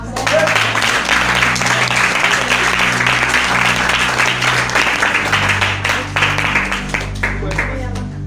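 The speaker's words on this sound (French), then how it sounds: "Et acclamons pour Jésus." A church congregation bursts into sustained, dense applause and clapping with scattered cheers, loud and continuous throughout, with a low hum beneath.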